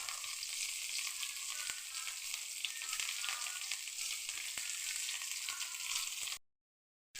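Curry leaves dropped into hot oil with onion, a loud continuous crackling sizzle with faint stirring ticks, cutting off to silence at the end.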